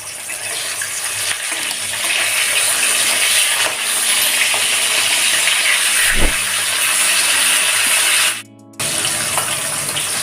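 Hilsa fish frying in a pan gives off a loud, steady sizzling hiss that runs continuously, with one brief dropout near the end and no one talking.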